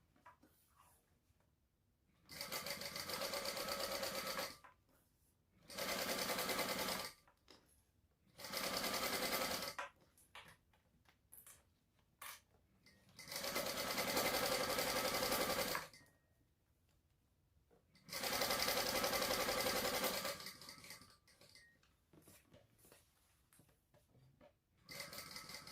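Sewing machine basting the raw edges of a fabric sling at an eighth of an inch, running in five loud steady stitching bursts separated by quiet pauses with faint handling of fabric.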